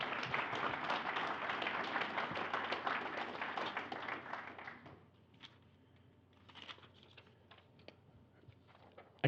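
Applause at an honor roll ceremony, a crowd clapping steadily for about five seconds before it thins out into a few scattered claps and quiet room noise.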